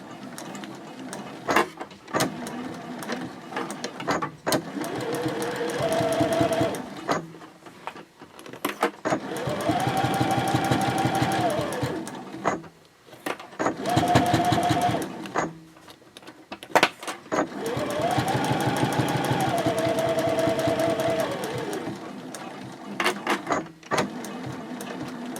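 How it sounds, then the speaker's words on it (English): A sewing machine stitches a fabric basket's lining closed near the edge with a medium stitch length, running in several bursts of steady mechanical whirring separated by short pauses, with backstitching at the ends. "And I'm going to go ahead and sew this by machine."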